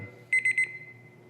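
Three quick electronic beeps from a digital kitchen timer used while roasting a chicken, close and clear, then a faint steady tone over low room hum.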